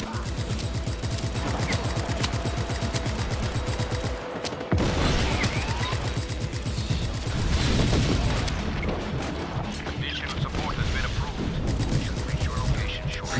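Powerful gun firing in the video game Just Cause, rapid dense bursts of gunfire close and loud with heavy booms and clattering mechanisms, a short gap near the middle, and a voice talking over parts of it.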